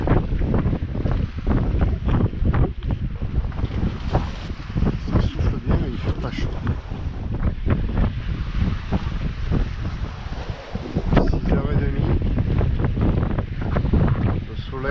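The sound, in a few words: wind on a sailboat at sea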